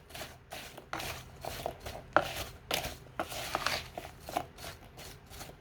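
A spoon stirring sliced apples with cinnamon, spices and sugar in a bowl, giving soft, irregular wet scraping and shuffling strokes at close range, with no voice.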